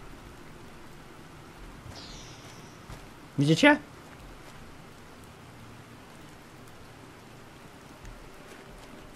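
Steady soft rainfall hisses throughout in The Planet Crafter video game, falling on a terraformed planet, while someone speaks briefly mid-clip over the constant wash of rain.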